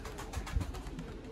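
Low cooing from young pigeons being trained outdoors on a windy day, a few soft rounded coos repeating under steady wind noise across a short stretch.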